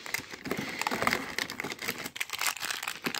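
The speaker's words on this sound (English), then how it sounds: "I already got the scissors out." Scissors cutting through crinkly plastic packaging on a toy: close, irregular crinkling and snipping rustles, fairly quiet, with no talk.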